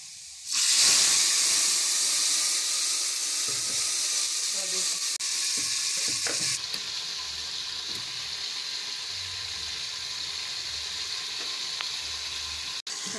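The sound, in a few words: garlic and spices frying in oil for saag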